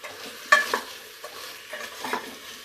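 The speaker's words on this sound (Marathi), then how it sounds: "आधी फ्लावर परतून घेऊया कारण फ्लावरचा जो उग्र वास असतो ना तो निघून गेला पाहिजे" Cauliflower being sautéed in a pan for pav bhaji, with a few soft scraping stirs of a spoon against the pan over a faint, quiet sizzle, heard close with no talking.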